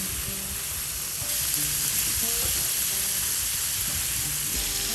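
Onions fry in oil and bacon grease on a griddle with a loud, continuous close sizzle that holds steady throughout, with no voices.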